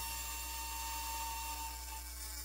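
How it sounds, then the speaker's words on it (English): A Dremel rotary tool with a grinding wheel grinds down a guitar bridge on a Telecaster, a continuous high whine held steady and close throughout with no talking. "I'm going to use the grinding wheel here on my Dremel"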